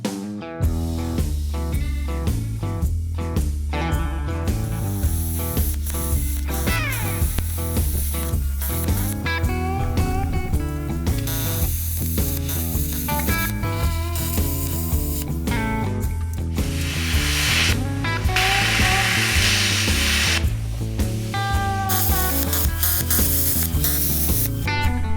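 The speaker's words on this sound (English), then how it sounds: "I have a plasma cutter, so I'm going to use a plasma cutter and torch the heads off" A plasma cutter torches rivet heads off a Chevy C10 frame, producing a continuous harsh hiss and crackle with rhythmic pulsing and stuttering breaks throughout, with no talking.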